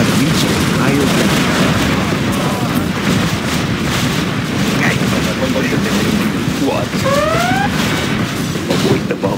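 Heavy booming explosions from bombs in C&C Generals Zero Hour roll on continuously through a dense battle soundscape of gunfire, with brief synthetic tones and game voices sounding over the din.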